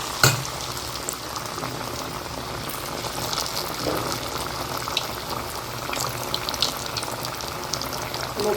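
Sweet paniyaram batter sizzles steadily in hot oil, a close, continuous crackling fry with a sharp tap near the start and no talking.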